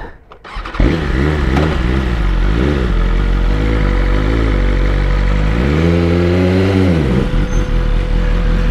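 A BMW M1000RR superbike engine starts and idles steadily nearby, with a couple of throttle blips and a longer rev near the end.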